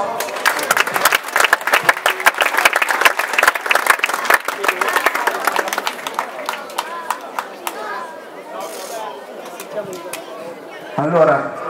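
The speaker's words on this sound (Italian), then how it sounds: "Un applauso." Audience applause at an outdoor youth football award ceremony, a memorial tournament prize-giving: a sustained burst of clapping with crowd chatter that fades toward the end, followed by a brief voice.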